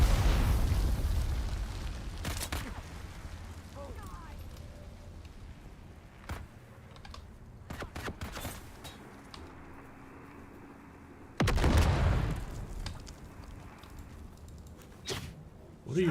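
Grenade blasts in the video game Dune: Awakening, with two heavy booms a few seconds apart and several sharper bursts between them, over steady background rumble.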